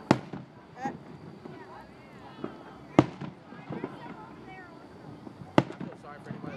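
Fireworks show over Burleson, Texas: sharp bursts at irregular intervals, several loud near bangs with crackling between, while people talk throughout.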